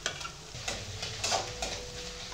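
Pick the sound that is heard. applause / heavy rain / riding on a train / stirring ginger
stirring ginger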